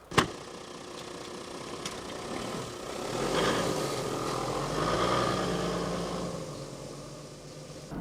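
Large diesel truck running with a steady low rumble, swelling slightly in the middle before settling, near and continuous with no talk.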